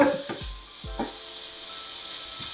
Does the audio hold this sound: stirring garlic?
yes